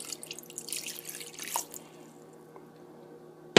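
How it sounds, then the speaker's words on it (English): Water poured into a container for a fabric-dyeing test with Wilton's black and violet dye, with soft dripping and trickling throughout and a brief louder splash at the end. "I'm going to actually add some more water because it doesn't look like there's enough in here."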